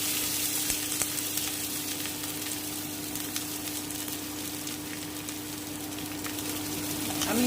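Onions frying in hot oil with cloves, cardamom and peppercorns in a kadai over medium heat, a steady close sizzle running the whole time with a faint hum underneath and no voices.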